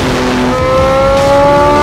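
A Porsche 918 Spider hybrid sports car with 887 horsepower drives fast, its loud close engine note holding steady and rising in pitch, with no talk.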